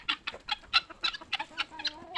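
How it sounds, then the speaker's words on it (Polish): Chickens, five roosters and four guinea fowl cluck in quick, irregular bursts as they are let out into a run, several birds close by, with scattered higher calls mixed in; no talking. "Cztery perlice, pięć kogutów i reszta kury wszystko."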